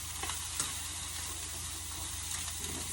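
Food stirred in a hot pan on high heat, a steady close sizzle with faint scraping strokes of a utensil and no talk.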